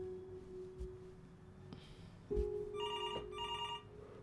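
In the Before Your Eyes video game, a telephone rings in repeated electronic bursts, two clear rings in quick succession, near and fairly loud over a low steady hum with no one talking.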